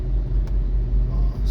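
Morning road traffic in Cebu City on a rainy day: a steady low rumble of passing cars with a faint engine swell, no voices.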